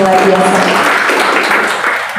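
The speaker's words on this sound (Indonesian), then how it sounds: "Beri tepuk tangan nih buat Tuhan kita luar biasa." Dense, loud applause fills the space, a church congregation clapping steadily during a worship service in Jakarta before it begins to thin toward the end.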